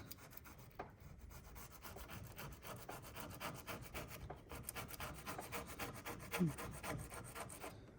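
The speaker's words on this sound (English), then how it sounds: "I'm gonna find something to scrub that off of there. Get us a better surface. Well, I found some double-edged razors." A double-edged razor scrapes old residue off a truck cab surface in rapid, repeated rasping strokes, close and fairly quiet, with no voices.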